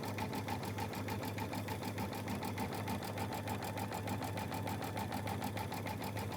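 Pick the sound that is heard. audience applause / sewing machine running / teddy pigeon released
sewing machine running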